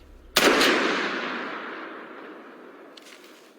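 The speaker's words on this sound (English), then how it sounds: "then a single muffled shot" One muffled gunshot booms suddenly and close, then its echo fades slowly over several seconds, with a faint scrape or rustle near the end.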